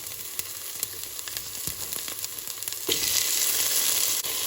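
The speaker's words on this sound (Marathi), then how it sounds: "पियाव भाजत म्हळ्यार टोमाट भाजत म्हळ्यार हे भाशेन" Onion and tomatoes frying in a pan for cabbage ross, a constant hiss and crackle with a few stirring knocks, the sizzle growing louder partway through.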